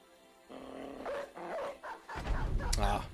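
Dog fighting in the Battle Brothers video game: a run of growls and snarling barks in short bursts, followed by louder thumping combat noise, moderately close.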